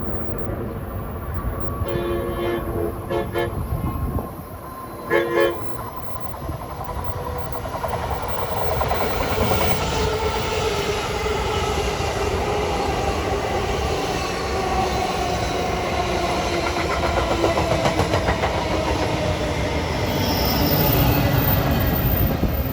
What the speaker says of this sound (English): That was train 3255 bound for Long Branch, next stop Rahway.